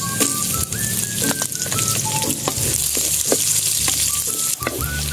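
Onion sizzling in hot oil in a pan, added after ginger and garlic for a Filipino pork dish, with a steady, close, continuous crackle and scattered sharp pops throughout, no voices over it.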